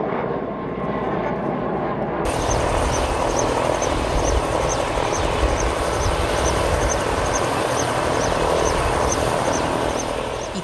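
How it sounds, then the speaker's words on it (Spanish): A Mexican Navy helicopter with its rotor and engine roaring steadily and loud at close range, a continuous broadband drone that holds without pause for the whole stretch. "Hipólito y 6 de sus hombres subieron a un helicóptero de la Secretaría de Marina"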